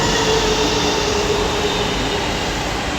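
A Delhi metro train runs steadily at Janakpuri East, a continuous loud rumble with faint rail tones throughout and no voices.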